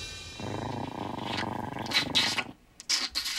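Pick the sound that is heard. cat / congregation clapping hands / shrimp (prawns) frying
cat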